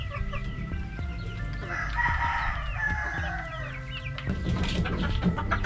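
Rhode Island Red hens mixed with native chickens in one pen cluck and crow nearby, a drawn-out rooster call rising over steady low clucking and farmyard murmur.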